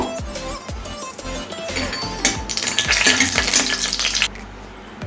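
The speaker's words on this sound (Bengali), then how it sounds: "বড়িগুলোকে আমি ভেজে নেব।" Biuli dal bori, small lentil dumplings, fry in hot white oil in a pan, sizzling up into a loud bubbling hiss as they are stirred, with a few soft utensil knocks before it fades.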